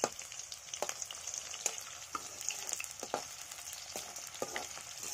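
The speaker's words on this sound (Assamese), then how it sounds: "তেলখিনি বহুত গৰম হৈছে কাৰণে পিঁয়াজখিনি দি লওঁ" Onions sizzle and crackle as they fry in very hot oil, a steady broadband hiss with sharp pops scattered throughout, close and moderately loud with no voices.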